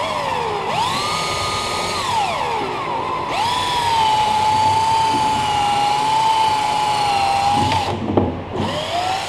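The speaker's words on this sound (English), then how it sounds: "I'm going to start with a slow buff right on the edge." Electric polisher with a foam pad slow-buffing polish on an oxidized, dirty wheel, a steady loud whine that rises and dips in pitch as the machine loads and eases, running nearly continuously with a short break near the end.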